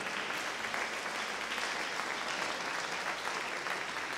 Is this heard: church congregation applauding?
yes